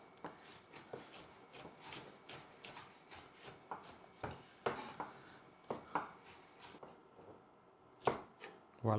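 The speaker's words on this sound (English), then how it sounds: "Cut the tips off, and we're gonna cut it in thin strips." A knife chops tempeh into thin strips on a cutting board, a steady run of close, sharp taps that stop briefly near the end before a few final cuts.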